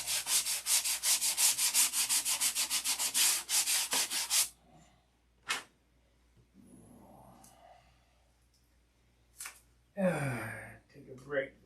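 Hand sanding with quick, regular back-and-forth rubbing strokes, loud and close, that stops after a few seconds, followed by scattered quieter rustles, a sharp knock and brief bits of talk.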